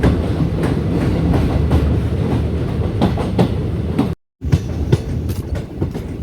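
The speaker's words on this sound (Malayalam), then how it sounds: "ഇങ്ങനെ പയ്യെ പോയി ഈ ട്രെയിൻ" Diesel train on the Kollam to Aryankavu line running slowly, a steady rumble with clickety-clack of wheels over rail joints heard from on board, loud and continuous apart from one brief dropout.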